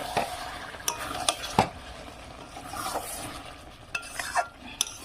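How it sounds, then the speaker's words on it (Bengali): A spoon stirs cabbage and potato curry in a pan, with repeated scraping strokes and light clinks over a soft background sizzle, close and fairly quiet, no voices. "নেড়ে দেবো একটু ভালো করে।"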